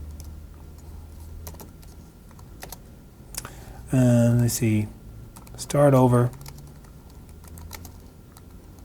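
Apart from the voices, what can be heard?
typing on a small keyboard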